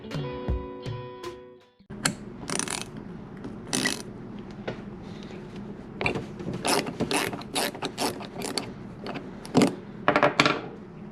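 Hand tools work on the carburetor of a 1996 Johnson 25HP outboard motor: close, dense ratcheting clicks, metallic tool clinks and small screw rattles that come in repeated short bursts, with no talking.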